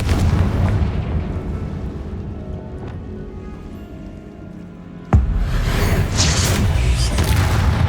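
Confringo and Bombarda blasting spells in the Hogwarts Legacy video game: a low rumbling combat backdrop, then one sharp, loud blast that rolls into a sustained roaring burst.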